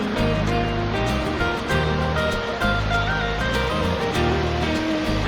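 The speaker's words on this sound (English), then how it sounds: "this is a pondless waterfall" A pondless waterfall water feature in a backyard sitting area pours in a steady, loud, continuous rush of falling and splashing water that fills the whole clip without pause.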